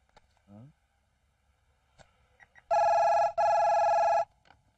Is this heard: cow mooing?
no